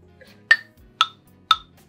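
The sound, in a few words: metronome app clicking in 6/8 at 120 BPM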